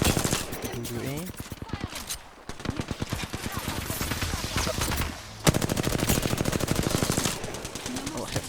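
Rapid automatic gunfire in a shooter video game, several long bursts of hip-fired and aimed shots with short pauses between them, loud and close.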